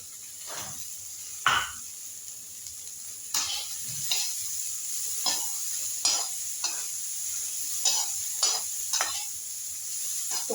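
Sliced onions sizzle in a pan for a village-style pasta with vegetables, a steady frying hiss broken by repeated scraping stirs every second or so, close and moderately loud, with no speech.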